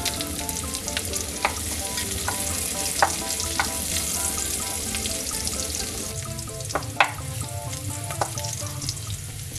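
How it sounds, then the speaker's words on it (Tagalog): Pork and garlic sizzle steadily in a hot pan, a continuous close frying crackle broken by occasional sharp clinks and scrapes of stirring. "Okay na itong pork na magigisa na ako. Lagi kong inuuna ang bawang."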